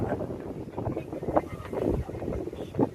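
Steady wind and low rumbling water noise aboard the passenger ship MV Kavaratti at sea between Kochi and Lakshadweep at sunset, a continuous broadband roar with a few louder gusts and no speech.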